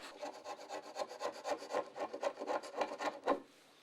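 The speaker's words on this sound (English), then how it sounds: "one of the easiest ways to clean up glue that has squeezed out is to remove it with a paint scraper" A sharp paint scraper drawn flat across wood to lift off squeezed-out glue, giving a close, steady run of short rasping strokes about every quarter second, alone for nearly four seconds before trailing off.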